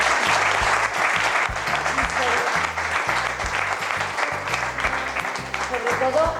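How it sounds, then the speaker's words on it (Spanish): Audience at an energy conference applauding loudly and steadily, sustained clapping with a low background hum underneath. "Pediría un fuerte aplauso para Roberto, Juanjo, Arcángel, Rodrigo y Cote"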